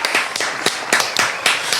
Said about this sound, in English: round of applause to our day ones